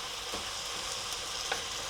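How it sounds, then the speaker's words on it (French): Canned tomatoes being crushed with a spoon in a hot pan, heard as steady close sizzling and bubbling with a few faint soft spoon scrapes against the pan. "je vais tout simplement les écraser à la cuillère pour faire comme des tomates concassées"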